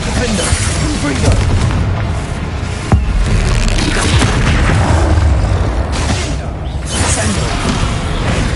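Repeated explosive spell blasts from Bombarda and Confringo in Hogwarts Legacy boom in rapid succession with crackling debris, layered over constant combat noise and loud spellcasting shouts.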